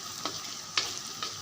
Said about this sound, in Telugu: ఉల్లిపాయ ముక్కలు వేసేస్తున్నాను